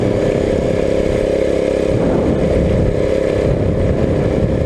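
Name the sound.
custom-built minibike engine running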